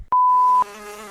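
A fly buzzes close by with a steady, harmonic drone that starts abruptly and keeps going, briefly louder at first before settling.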